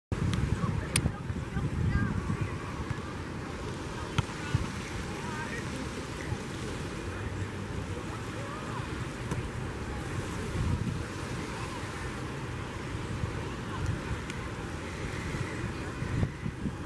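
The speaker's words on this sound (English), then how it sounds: "we just got to the beach, man. It's a little windy out, but hopefully the water's not too cold." Wind buffets the microphone in steady gusts at a windy Hawaii beach, with a constant wash of ocean surf rolling underneath for the whole stretch, while voices murmur faintly in the background.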